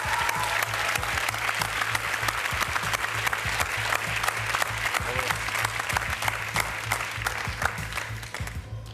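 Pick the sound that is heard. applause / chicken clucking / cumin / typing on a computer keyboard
applause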